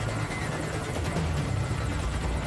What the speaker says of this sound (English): I'm sending a chopper to pick you up.